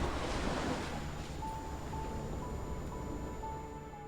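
Ocean waves wash steadily onto a beach in the video game Love and Deepspace, with a continuous soft roar and a faint breezy hiss and no voices.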